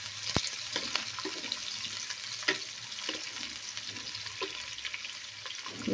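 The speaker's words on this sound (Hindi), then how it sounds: "इसके साथ ही हम डालेंगे प्याज और इसको हम करेंगे फ्राई।" Chopped onions fry in hot oil for a degi-style aloo gosht, giving a soft, continuous sizzle with occasional stirring knocks and a low hum beneath.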